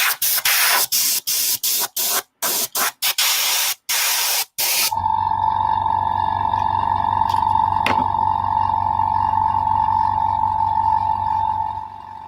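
Airbrush spraying paint in rapid short bursts for about four seconds, then a steady continuous spray hiss with a faint tonal hum underneath, close and loud.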